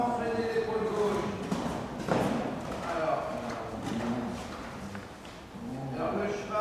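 Horse hooves thud and clip-clop steadily on an arena surface during a riding lesson, a soft continuous rhythm running beneath an instructor's voice talking throughout.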